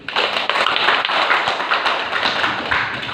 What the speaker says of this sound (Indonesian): sekali lagi kita aplaus Maria